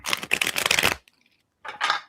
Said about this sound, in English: you're working on a bridge shuffle